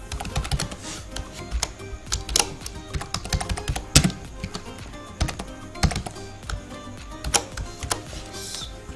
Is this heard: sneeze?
no